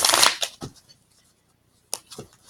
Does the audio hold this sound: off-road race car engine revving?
no